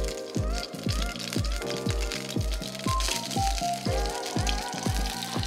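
Garlic herb butter sizzling in a pan with chicken, a loud crackling fry with a steady regular knocking rhythm running through it, close up and without talk.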